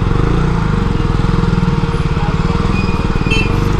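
A motorcycle fitted with an Akrapovic exhaust runs loud and close, its engine giving a steady, rapid throbbing drone throughout.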